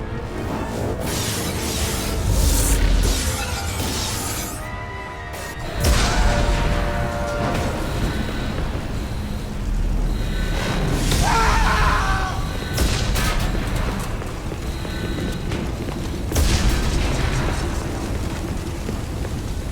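Rumbling explosions and blasts aboard a starship under attack in the Mass Effect 2 video game, continuous heavy booming with surging bursts and crackling debris, loud and close, without speech.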